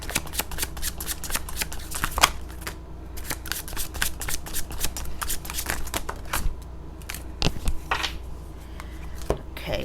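Tarot cards being shuffled and drawn for a love reading, a steady run of crisp riffling snaps and flutters with quick card slaps, close and fairly loud, with no talking over it.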